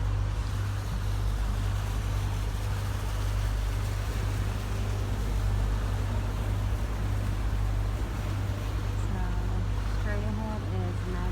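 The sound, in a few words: boat ride at Disney's Fort Wilderness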